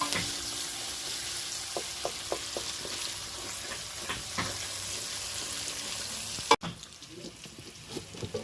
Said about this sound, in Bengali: তো পেঁয়াজগুলো লাল করে ভাজা হয়েছে